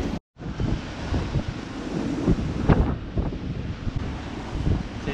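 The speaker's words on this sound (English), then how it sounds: "She's windy." Strong 20 to 25 knot wind gusts across the microphone on a sailing boat at sea near Kupang, roaring and buffeting in uneven surges over rushing water, with no voices.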